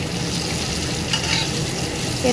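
Teasel gourd (kakrol) frying in a pan, a steady close sizzle with light stirring scrapes throughout, no talk.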